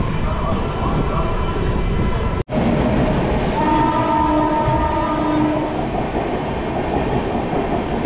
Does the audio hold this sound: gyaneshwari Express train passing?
yes